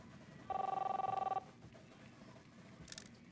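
A telephone in the video game Captain Spirit rings once, a short buzzing electronic trill lasting about a second over a low background hum, followed by a brief faint chime.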